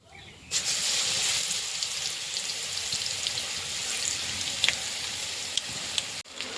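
Onions frying in oil in a pan for potato curry, a loud continuous sizzle starting abruptly, with scattered pops and spatula scrapes, close by.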